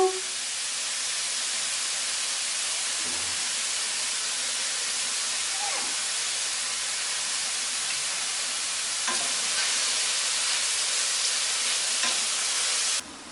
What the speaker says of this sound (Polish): Wrzucamy boczniaki na patelnię rozgrzaną.